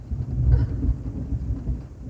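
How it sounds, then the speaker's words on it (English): Deep, rolling thunder rumbles in low, rising to a heavy swell and then grumbling on steadily, with a faint hiss of rain and no talking. "It's thundering, I'm ready to go."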